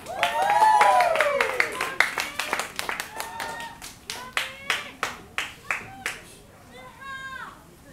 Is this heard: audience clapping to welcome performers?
yes